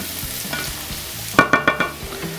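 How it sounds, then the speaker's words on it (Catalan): Onion, pepper, zucchini and eggplant fry in a pan for samfaina, a soft steady sizzle broken by four quick, sharp scraping strokes of a stirring utensil, close and with no talk. "que es vagi fregint tot ben fregidet"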